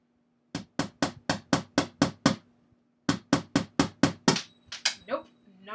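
Hammer repeatedly striking a screw into wood during a DIY coffin-shaped jewelry hanger build: two loud, close bursts of about seven to eight evenly spaced sharp blows, the last few ringing and scraping as the screw fails to go in.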